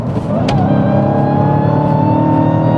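A manual Dodge Challenger Hellcat pulls hard on the highway, its engine roaring loud and steady with a rising supercharger whine layered over the exhaust throughout.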